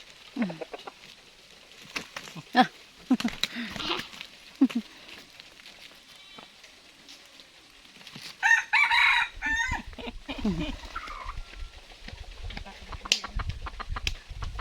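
A pure labuyo (red junglefowl) rooster on a mountainside crows loudly and close by in one full call midway, surrounded by scattered clucks, rustling and faint voices.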